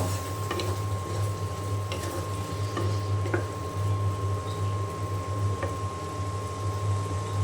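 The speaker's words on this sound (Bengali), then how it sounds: "মসুরের ডালকে ভালো করে আমি কষিয়ে নেব" Soaked red lentils stirred in a hot pan while cooking, with a low steady sizzle and scattered scraping, clinking taps of a spatula against the pan, fairly close and continuous with no talking.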